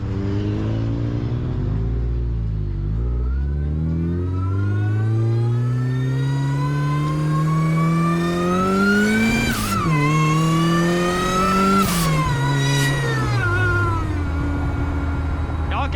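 A supercharged Mazda NB Miata engine revs up through rising, whining pitch sweeps, loud and close, with supercharger whine over the deep engine roar, on country back roads in Surrey.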